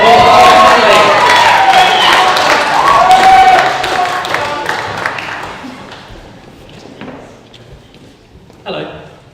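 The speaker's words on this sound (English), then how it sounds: "Round of applause, Donnelly." An audience applauds and cheers loudly, the clapping gradually thinning and fading out, with a brief burst near the end.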